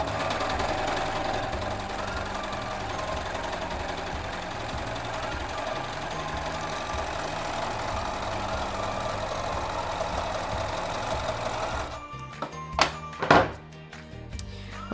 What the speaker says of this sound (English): you can just go ahead to serge as you normally would, just step on the footer